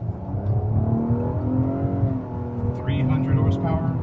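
A Nissan Maxima or Lexus ES 350 with a 300-horsepower dual overhead cam V6 pulls away, its engine rising in a smooth, steady drone heard from inside the car, with a brief dip before it climbs again.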